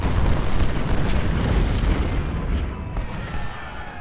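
Civil War artillery, including 20-pounder ordnance and howitzers, firing in the battle game Ultimate General: Civil War, a dense rumbling barrage of booms that fades slightly toward the end, with no talk.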